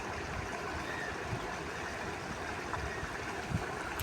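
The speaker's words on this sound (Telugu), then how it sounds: "వాగు చాలా బీభత్సంగా పోతుంది" A swollen stream fed from hillside runoff rushes strongly past farm fields, a dense steady roar of water close by with no voices.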